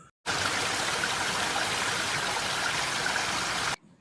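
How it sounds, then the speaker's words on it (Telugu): Ethipothala waterfall in Zaheerabad flowing, a dense steady rush of water that starts abruptly and holds at even loudness for over three seconds before cutting off, with no talk. "ఈరోజు మీకు ఒక అందమైన జలపాతాన్ని చూపించబోతున్నాను. ఇది ఎత్తిపోతల జలపాతం."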